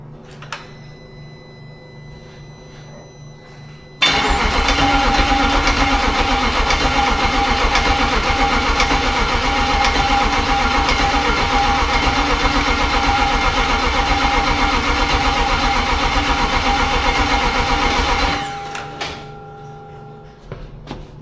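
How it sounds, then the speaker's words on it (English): A car engine being cranked fires up after an exhaust fabrication job and runs loudly and steadily for about fourteen seconds before shutting off, heard up close with no talking. "It'd just be nice to hear it fire up for a couple of seconds."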